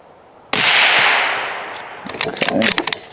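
A single loud bolt action rifle shot cracks sharply and then rolls off in a long, fading echo, followed by a few faint mechanical clicks and rattles close by.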